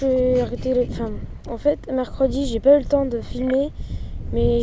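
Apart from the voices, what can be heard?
None of the usual background noises is heard.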